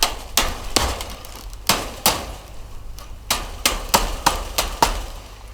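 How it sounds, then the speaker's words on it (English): A hammer strikes garden fencing being bent around a corner outdoors, about a dozen sharp metallic bangs in an uneven rhythm, close and loud. "I just pull it with the hammer like this"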